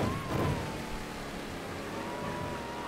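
A car engine drones steadily in the Mafia 3 video game, a constant mid-level hum with a faint whine, under quiet background noise.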